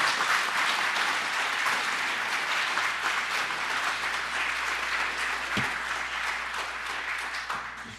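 Audience applause at a lecture on ethics and social rights, a steady sustained clapping from a crowd lasting the whole stretch, fairly even in loudness and slowly easing toward the end.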